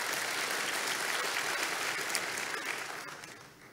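Audience applause fills a large gathering during a church teaching event, a broad continuous clapping wash that holds steady and then gradually fades toward the end.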